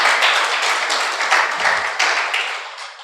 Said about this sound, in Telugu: చప్పట్లు కొట్టి దేవుని నామమును మహిమపరచాలి.